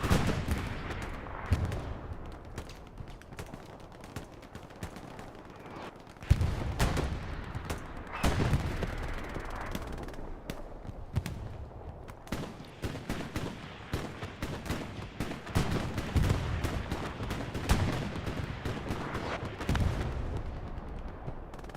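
Strafe run in the Hell Let Loose video game, with repeated bursts of gunfire and heavy impacts rolling through a dense, continuous barrage, several loud booming hits standing out against constant rumbling battle noise.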